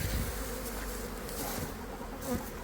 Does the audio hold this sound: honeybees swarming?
yes